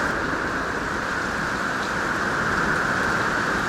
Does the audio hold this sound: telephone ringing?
no